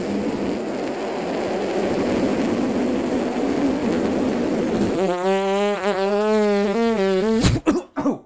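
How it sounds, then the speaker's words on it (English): Lips buzzing to demonstrate trumpet embouchure: after several seconds of breathy background, a loud, close buzzing tone with a wavering pitch sounds for about two and a half seconds, then breaks off in short sputters. "make them vibrate together or buzz by shooting just a little bit of air through them"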